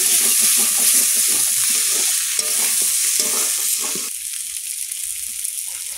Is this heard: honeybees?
no